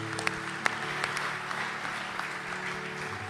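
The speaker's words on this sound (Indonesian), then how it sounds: "Tepuk tangan buat." A church congregation applauds during a Sunday sermon, a fairly soft, even patter of many hands with a few sharper claps near the start, heard from some distance.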